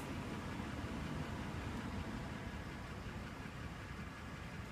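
A steady, low engine idle hums on without a break, even and fairly quiet, with no voices over it, from a car's engine during a battery and charging system test.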